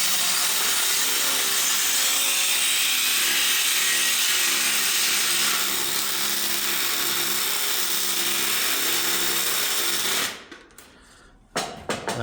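A half-inch impact wrench runs loud and continuous for about ten seconds during a large 8x8 post replacement at a collapsing corner store, then cuts off, leaving a short quieter tail with a few small knocks.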